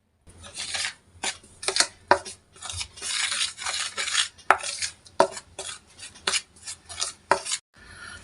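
Aloe vera juice mixture being stirred in a bowl, a run of scraping, clinking strokes close by in irregular bursts with brief pauses, no voices.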